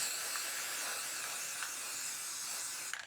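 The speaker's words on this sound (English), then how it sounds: "All right, so spray the leaf." An aerosol spray can hisses continuously onto a leaf for a Halloween arrangement, a steady close spray for about three seconds before it cuts off.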